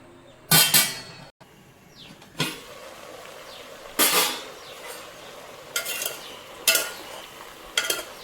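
Eggplant cooks in a pot on the stove and is stirred in several short, scraping bursts against the metal, separated by quieter stretches of faint simmering.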